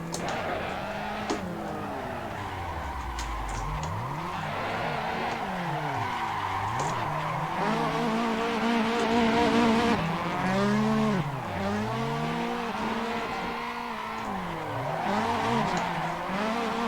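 Sim-driven car drifting at Ebisu Minami in Assetto Corsa, heard from outside: long continuous tire squeal with sliding, wavering pitch sweeps over a steady engine note, loud and sustained throughout.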